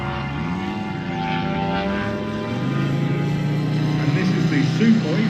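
A model Sukhoi flown at the Weston Park model air show, its engine droning steadily with a wavering, rising pitch, loud and close, while a voice talks over it in the background.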